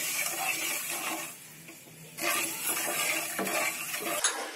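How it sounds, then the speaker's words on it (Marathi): Sugar syrup made with water comes to a rolling boil in a pan for peanut katli, giving a steady bubbling hiss with a few louder surges, close and continuous with no speech. "साखरेच्या पाकाला चांगली उकळी आली आहे."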